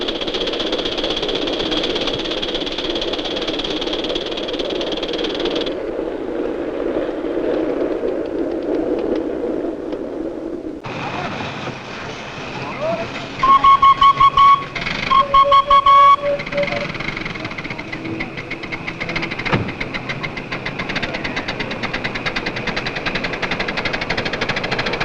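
A miniature railway locomotive at Thames Ditton works at full throttle up a gradient, a steady engine drone with a shift in tone midway and brief whistle toots, heard from on board.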